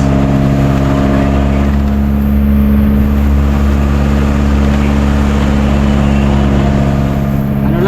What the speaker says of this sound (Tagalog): Maliit na yan ang bangka mga kasuyo, pero dalawang makina, dubulan